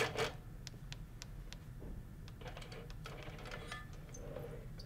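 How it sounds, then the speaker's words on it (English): Longarm quilting machine basting down the sides of a quilt, giving a steady low mechanical hum with a rapid train of faint clicking stitch ticks running throughout, alone with no talk. "I'll quickly pull up my bobbin and baste down the sides of my quilt."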